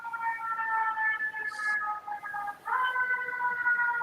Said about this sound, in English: Somebody got the sirens in it.